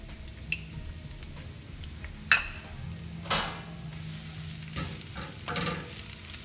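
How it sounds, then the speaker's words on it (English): Onions sauté in hot oil for an Indian omelette, a quiet steady sizzle with a few sharp clinks of a utensil against the pan as they are stirred. "Just saute all these onions really nice."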